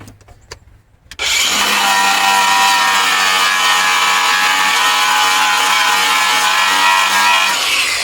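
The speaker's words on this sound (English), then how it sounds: "I'm going to finish sanding it all up" After a moment of quiet, a power sander starts up and runs steadily against the metal deck of a John Deere D160 mower, a loud, continuous abrasive whir close by.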